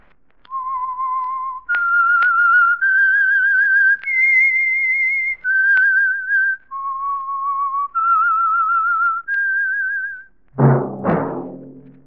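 A clear, piercing whistled melody of sustained notes climbing and falling, each held for about a second, ending with a short low thump; the theme of the 1948 radio drama The Whistler.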